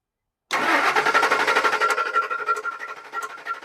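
A 2003 Ford F150 with the 4.6L two-valve V8 and a misfire cranks over during a spark test, the starter chugging in a fast, steady rhythm right after a moment of silence, loud and close.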